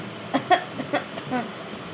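A child gives a few short, light coughs close by, spaced irregularly with brief quiet gaps between them.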